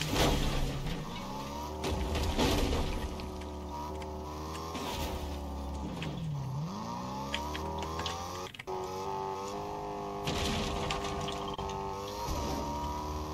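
Cars in a video game, engines droning and revving with rising and falling pitch sweeps, a sustained mid-level motor hum with a brief skid-like break partway through.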